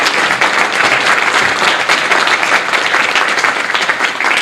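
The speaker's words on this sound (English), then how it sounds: "another round of applause for them" Loud, sustained applause from an audience at a Spirit of Rotary award event honoring a committee, a steady wash of many hands clapping with no break and no talking over it.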